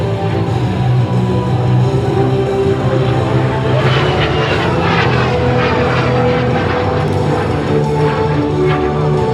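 Loud, steady aircraft engine roar from a de Havilland Vampire jet fighter, a broad droning rumble with layered tones that holds for the whole stretch without any talk.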